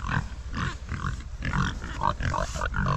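Pigs in a farm pen give short, repeated grunts and snorts in uneven bursts, close by and moderately loud, with no one talking.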